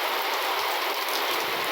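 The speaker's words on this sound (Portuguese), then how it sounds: "Caindo água. Chuva boa." Rain pours down steadily on a rural property, a dense, bright hiss of water hitting surfaces close by, with no voices.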